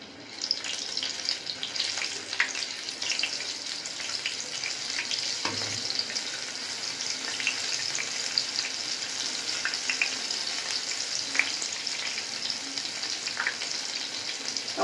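Battered snacks dipped in gram flour batter fry in hot oil, producing a dense, continuous close sizzle with faint crackles and pops throughout.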